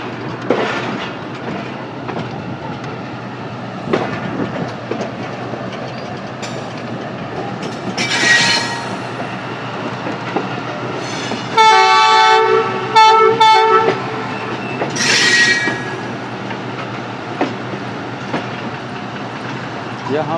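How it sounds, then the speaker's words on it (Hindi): Sialkot Express passenger train pulling out of Baddomalhi railway station in Pakistan during heavy rain, a steady rolling rumble with track clatter and a few brief horn-like tones, continuous and fairly close throughout. "काफ़ी स्मूथली डिपार्चर हो रही है बद्दोमल्ली के रेलवे स्टेशन से।"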